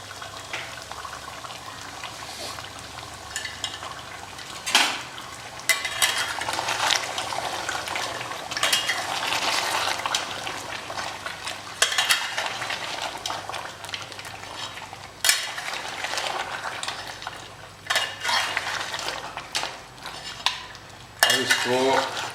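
Mutton masala with garlic ginger paste frying in a pan, a steady sizzle under repeated scraping and clinking of a stirring spoon against metal, close and continuous.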